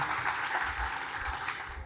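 An audience applauds a speaker joining an energy innovation panel, a dense, steady wash of clapping from many hands that holds at an even loudness throughout.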